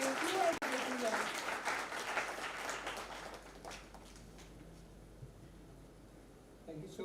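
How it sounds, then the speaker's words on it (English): Audience applause welcoming a speaker onto the stage at an IP awareness event, a dense, steady clapping from a crowd that fades gradually over several seconds into quieter room tone. "With a huge round of applause, we welcome on stage Dr. Viksit Bharat"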